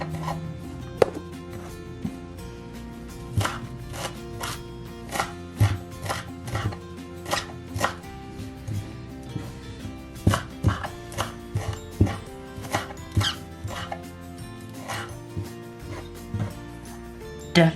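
A knife chopping vegetables on a board for a vegan chickpea curry, repeated sharp close taps in irregular bursts with short pauses between them, no talking.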